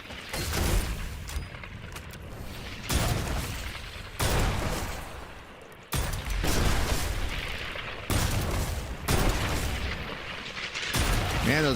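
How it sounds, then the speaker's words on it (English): Heavy video game explosions boom one after another, roughly every two seconds, each a loud broadband blast with a rumbling tail that runs into the next, forming a continuous barrage. "those explosions are awesome"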